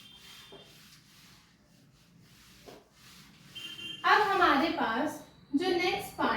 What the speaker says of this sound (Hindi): इसे रब करते हैं